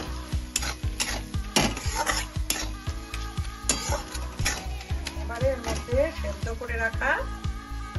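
Egg with taro stolon and grated coconut is fried in a pan with no water. A spatula scrapes and stirs in quick repeated strokes over a steady sizzle, close up, and a voice speaks at times.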